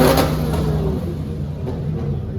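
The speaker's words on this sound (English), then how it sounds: "It sounds like they're doing a lot of revving." Sports cars such as an RX-7 and a Supra rev their engines amid Formula 1 weekend street crowds in Montreal, a loud, sustained engine roar with a rising rev at the start, close by and continuous.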